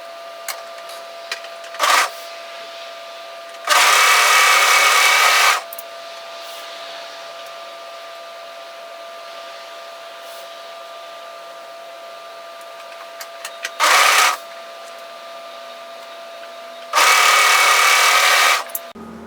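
Sewing machine stitching the side seams of a roll-neck longline sweater, sounding in separate whirring bursts of about one to two seconds against quiet, with a faint steady hum in between.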